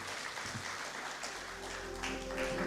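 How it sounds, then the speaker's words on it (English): A conference audience at an SME awards event applauds in a faint, distant patter of clapping that continues without pause over a low background hum. "Another beautiful round of applause, ladies and gentlemen."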